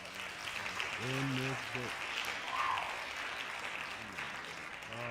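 Applause sound effect dropped into a casual podcast, a steady wash of clapping running under several people talking.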